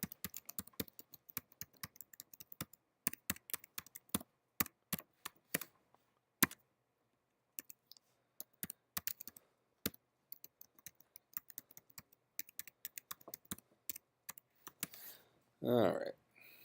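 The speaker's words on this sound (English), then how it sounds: "I'm going to go through and type in the entire alphabet twice" Fingers tap out the alphabet on a computer keyboard in quick, irregular bursts of clicks with short pauses, close and fairly quiet, ending with a brief murmur.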